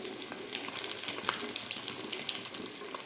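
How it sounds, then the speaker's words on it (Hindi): Fish pieces frying in oil, fried on both sides, giving a soft continuous sizzle with faint crackles and small clinks, close and steady. "मछली दोनों साइड से अच्छी तरह से फ्राई हो गया है"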